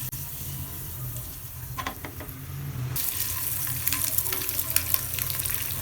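Boiled eggs simmer in a spicy masala over a very low flame, giving a soft, steady sizzle that grows brighter and denser about halfway through, with faint stirring clinks.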